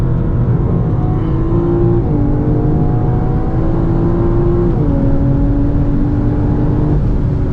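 2023 BMW M4 Competition lapping a race track, its engine droning loud and close from inside the cabin, pitch climbing through the gears with several quick upshifts.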